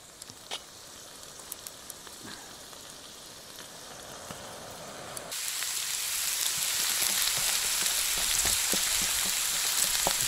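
Rain on a wild camping site, a soft patter that suddenly swells into a much heavier, dense hiss of rainfall about halfway through and keeps going, with no voices.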